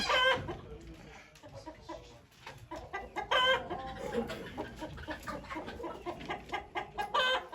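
Chickens cluck repeatedly nearby at a chicken auction in Ankara, with a rooster crowing among them and faint voices in the background.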